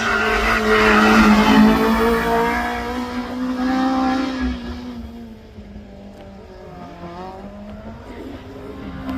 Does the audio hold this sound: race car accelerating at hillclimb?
yes